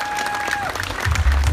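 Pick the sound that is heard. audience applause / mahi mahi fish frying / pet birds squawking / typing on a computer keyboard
audience applause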